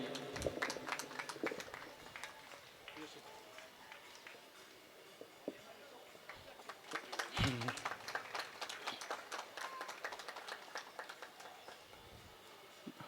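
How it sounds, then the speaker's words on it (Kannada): At a formal assembly where bouquets are presented to guests, an audience claps in scattered bursts. The sharp, uneven hand claps swell and fade across the stretch, with voices speaking in between. "ಮತ್ತೆ ಜೋರಾದ ಚಪ್ಪಾಳೆಯೊಂದಿಗೆ"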